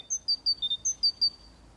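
Birds sing a run of quick, high, clear chirps, about eight notes in rhythmic bursts, with soft background noise between them.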